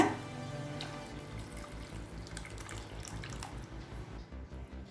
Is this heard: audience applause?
no